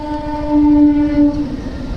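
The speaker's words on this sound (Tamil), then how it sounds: "காய்ஸ் ட்ரெயின் வருது காய்ஸ் பாருங்கள்" A loud train horn blares in a sustained tone over the rumble of a passing train in Meenambakkam, close by and dominant.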